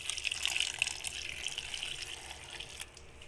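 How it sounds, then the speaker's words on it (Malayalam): Half a cup of water poured into a blender jar over seeds for a juice, a steady close splashing pour that fades near the end, with no talking. "ഇനി നമുക്കിതിലേക്ക് അരക്കപ്പ് വെള്ളം ചേർത്ത് കൊടുക്കാം"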